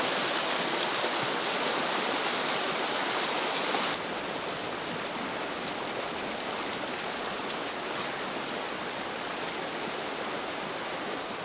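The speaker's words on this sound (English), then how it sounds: "Let's keep walking down the river." A remote creek flows steadily in a constant broadband rush of water, close and continuous, with the tone shifting slightly partway through; no talk.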